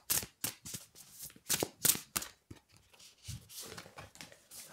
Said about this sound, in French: je vais tirer 2 autres cartes